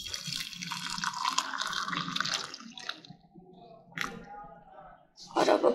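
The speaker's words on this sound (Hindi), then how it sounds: "डालते हैं चाय, मैंने मामा की जो चाय है उसमें चीनी डाल दी है।" Tea is poured into a cup in a home kitchen, giving a soft splashing trickle in short bursts between pauses, with a quiet voice in the background.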